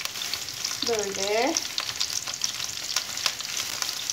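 Peppers sizzle and fry in hot oil in a pot, a steady close crackle that runs throughout, with a brief scraping stir partway through and a single spoken word over it.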